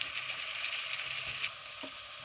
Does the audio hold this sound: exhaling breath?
no